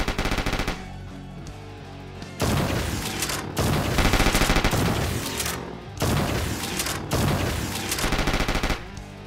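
Rapid, loud gunfire from the PC video game Project Warlock, in its Hell level, comes in dense sustained bursts. Brief pauses break up long stretches of continuous shooting.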